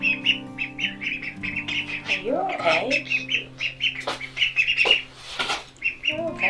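A young farm duckling about three weeks old peeps and squawks repeatedly in quick succession, close by, while a person murmurs softly to it and talks over the calls.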